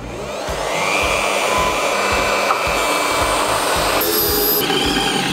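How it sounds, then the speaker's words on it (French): Small magnetic drill boring a hole into a vehicle chassis, a loud continuous whirring grind that holds steady for several seconds before the pitch shifts near the end. "Donc j'utilise ma petite perceuse magnétique."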